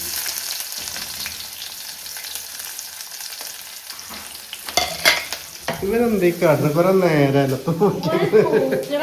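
Fenugreek seeds and chopped shallots frying in a pan, a soft hiss that swells into loud crackling sizzle as the shallots go in, with stirring and someone speaking over it.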